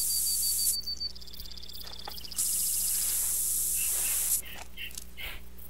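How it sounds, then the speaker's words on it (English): A hunter sprays deer urine scent from a spray bottle outdoors in a hunting game, giving two bursts of loud, close hiss lasting a second or two each over a low background hum, followed by faint clicks. "Spray that deer piss all over you, boy."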